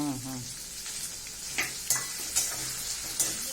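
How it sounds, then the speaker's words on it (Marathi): Onion and two whole green chillies fry in a pan, with a close, steady sizzle and several sharp stirring scrapes and clanks from a utensil, with no talking. "त्याच्यानंतर कांदा आणि त्याच्यात 2 साबुत हिरवी मिरची."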